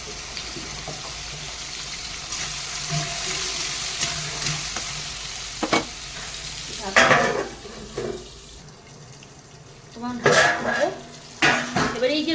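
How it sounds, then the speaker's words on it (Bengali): Mushrooms fry with pepper, cumin and chopped garlic in a pan for mushroom rice, a steady sizzle running throughout and broken by several louder bursts of stirring and utensil scraping against the pan. "রসুন কুচিটা আমি মাশরুমের সঙ্গে আর একটু ভেজে নেব ফ্লেভারটা ভালো হবে"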